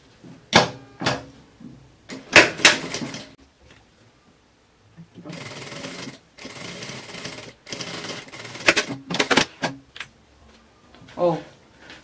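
A sewing machine stitches a zipper onto a baby changing bag in short, buzzing runs of a second or two, broken by quiet pauses and one longer steady stretch of stitching.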